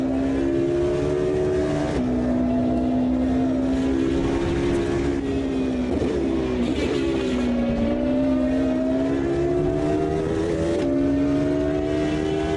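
An Audi endurance race car in the Automobilista 2 racing game, on the historic endurance circuit at Road Atlanta 2005, drones with a loud, continuous engine tone that rises and dips through gear changes and throttle shifts, with no talk.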